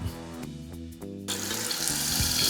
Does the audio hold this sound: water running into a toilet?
yes